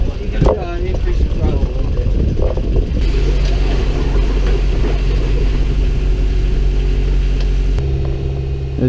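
A sailboat's inboard engine motors along near Fort Myers Beach, Florida, running as a steady close drone that shifts pitch as the throttle increases; voices speak briefly over it near the start.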